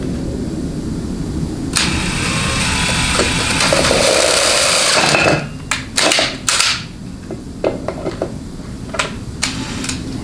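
A power drill works on a transmission bushing during a 200-4R automatic transmission rebuild, a loud sustained whir that cuts out midway, then short bursts and clicks as the trigger is pulsed.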